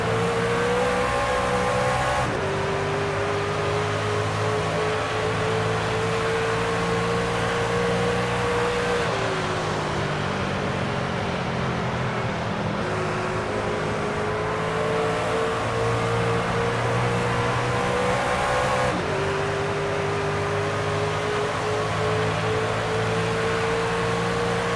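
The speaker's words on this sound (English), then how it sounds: "Ryan Enlow just right in the slipstream, trying to get as much advantage as he can." Racing trucks roar past at speed on the oval at World Wide Technology Raceway (Gateway), a loud, steady, continuous engine drone with shifting pitch and no talk heard.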